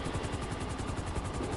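Rented helicopter in the video game GTA, a steady loud rotor and engine drone with rhythmic blade chop running continuously and close, with no talk over it.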